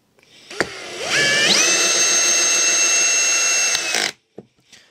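A Ryobi RPD18X cordless impact drill drives a 4 mm torx screw in low gear: a sharp whine spins up, holds steady for about three seconds, then cuts off, with a few clicks before and after.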